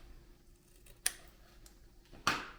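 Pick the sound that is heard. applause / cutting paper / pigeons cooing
cutting paper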